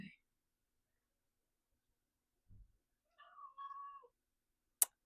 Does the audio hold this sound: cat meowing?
yes